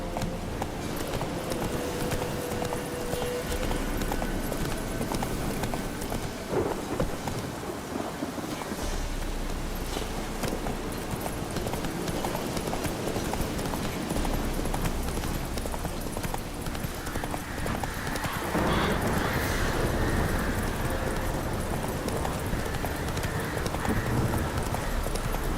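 Roach the horse from The Witcher 3 gallops with steady, loud clip-clop hoofbeats through the whole stretch, wind and light ambience behind, the pace shifting slightly near the end.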